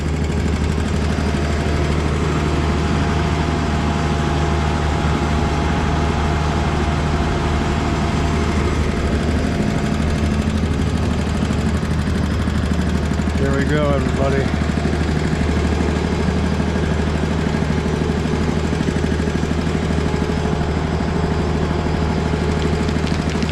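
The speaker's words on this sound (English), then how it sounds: "I have the operator push forward, making the drill head go into the ground." A horizontal directional drill rig's engine runs steadily while pushing the drill head underground for fiber conduit, a continuous loud rumble with a brief rising whine midway, and someone speaks over it.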